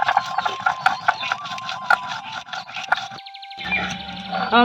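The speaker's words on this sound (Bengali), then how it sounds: "মশলাটা এবার গুঁড়ো করে নেবো" A small electric grinder whirring and rattling as it grinds a cooled roasted spice mix, with a steady mechanical drone, a brief pause and a restart, close and loud.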